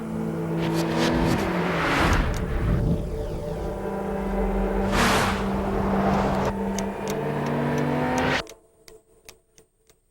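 An Infiniti engine from the 2003 lineup of FX, G35 and G35 Coupe revs and surges in a TV commercial, rising and falling over a musical bed before cutting off abruptly near the end.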